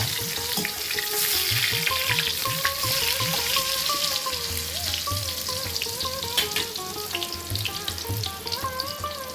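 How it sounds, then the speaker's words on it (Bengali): Potato, bean and eggplant fry in a pan with salt, turmeric, red chilli powder and cumin while being stirred, a constant sizzle under repeated scraping of the spoon and a few sharp clinks. "একসাথে সবজিগুলো ভালো করে মিশিয়ে একে একে দিয়ে দেবো নুন, হলুদ গুঁড়ো, লাল লঙ্কার গুঁড়ো আর 1 চামচের মতো জিরে গুঁড়ো দিয়ে আবার সবকিছু একসাথে ভালো করে নাড়িয়ে নেব"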